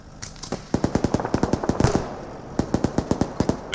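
Rapid bursts of automatic gunfire crack out in quick, regular volleys amid a firefight in ArmA 3, loud and close with short gaps between strings of shots.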